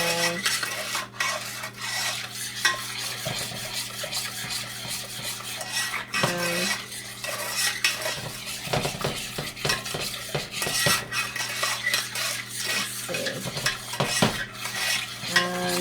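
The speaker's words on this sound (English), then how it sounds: "now I'm really just keeping it stirred" A spoon stirs a hot fudge mixture in a pot over medium-high heat, scraping and clinking against the metal sides in a continuous uneven rhythm, close up with no talking.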